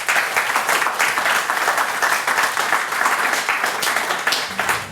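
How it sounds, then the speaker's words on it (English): Sustained audience applause at a startup pitch event, dense and steady clapping from a crowd for the full length, with a slight fade near the end. "So we have a round of applause."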